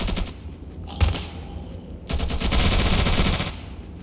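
Light machine gun fire in the Ravenfield video game, arriving in two sustained bursts of rapid automatic shots, loud and close, with a single heavier boom between them.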